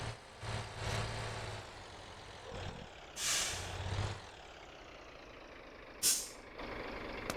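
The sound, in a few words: truck handbrake applied in MotorTown video game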